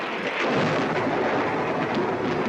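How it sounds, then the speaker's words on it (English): Thunder follows a lightning strike during a squall: a loud, continuous rumble with rain-like hiss that fills the whole short stretch without a clear single crack. "the lightning, it hit us."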